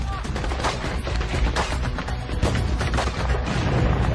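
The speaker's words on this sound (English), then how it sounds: "a convoy of Marines comes under heavy fire while driving past Baghdad" Heavy gunfire hits a Marine convoy driving past Baghdad University, a dense and loud stream of rapid shots and bursts with booming reports that continues throughout.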